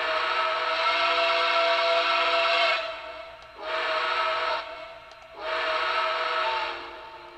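A Lionel LionChief Plus 2.0 Nickel Plate Road #765 Berkshire toy steam locomotive whistle gives three loud, sustained blasts, the first one longest, with brief gaps between them.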